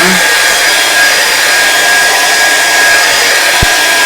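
A hair dryer blowing on a painted canvas with a tree, a loud, steady whooshing hum that runs unbroken from start to finish, with a brief low thump near the end.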